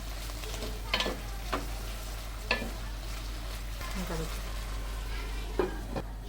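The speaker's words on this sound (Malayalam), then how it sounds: "ഇനി നമുക്കിതൊന്ന് ഇളക്കി കൊടുക്കാം" Drumstick and cashew avial cooking over a medium flame in a pan, a soft continuous low sizzle and bubbling with a few scattered scrapes of a spoon as it is stirred, quiet and close without speech.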